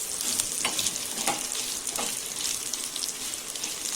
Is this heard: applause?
no